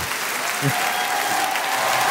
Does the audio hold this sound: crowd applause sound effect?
yes